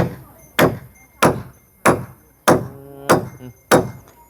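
A hammer drives nails on a house construction site, with seven evenly spaced heavy blows landing about every half second to second. The strikes are loud and close, each ending in a short ringing decay.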